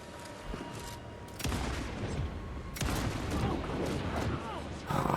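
Rapid gunfire from shooting enemies in the game Alan Wake 2, dense overlapping shots in a sustained fusillade with several louder bursts, fairly close and continuous.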